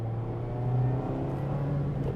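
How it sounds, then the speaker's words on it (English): A 2024 Mazda MX-5 Miata engine holding a steady, moderately loud drone with a slight swell, the revs lingering briefly rather than dropping away, heard from inside the car. "but it does have like a rev hang to it."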